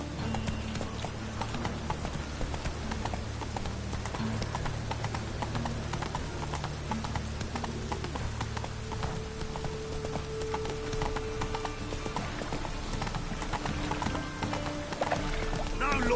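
Horse hooves gallop in The Witcher 3 with a fast, steady clip-clop that runs the whole time, close and loud, over game ambience with some talk.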